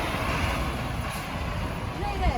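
A tour bus pulls up at Chichen Itza, with a low engine rumble and a hiss, while people talk close by.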